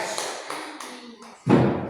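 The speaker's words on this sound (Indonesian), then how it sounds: "Kita tepuk tangan untuk kelompok 1" Classroom applause for a student group during an Indonesian teacher-training lesson: a few scattered taps, then a sudden loud burst of clapping from many hands at the end.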